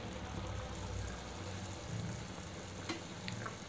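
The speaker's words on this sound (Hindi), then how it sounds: "इसको करीब 10 से 15 मिनट तक आप ऐसे ही बॉईल होने दे" Gujarati muthiya dumplings boiling in a covered pot, a soft continuous bubbling and hiss at low volume, steady and unbroken with no voices.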